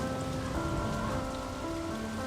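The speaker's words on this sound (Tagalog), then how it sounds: "Ulan lang yan, hindi yan nakakamatay." Steady rain pours down on surfaces in a continuous, even hiss with dense patter, with a faint musical tone running underneath.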